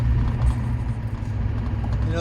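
A 2001 Chevy GMT800 2500 Duramax diesel truck chugs along at about 1,000 RPM and 30 mph, giving a steady, loud low-end rumble from inside the cab that continues throughout with no talking.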